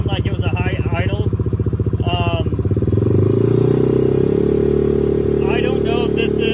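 A Kawasaki Z125 Pro motorcycle fitted with a 143cc big bore kit runs at a high idle, a loud close pulsing engine drone that rises and steadies midway while a person talks over it.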